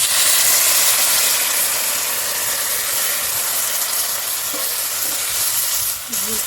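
Warm water poured into a hot pan with salt and turmeric while cooking elephant yam with khoira fish: a loud, steady hissing sizzle that fades slightly, followed by a brief clatter near the end.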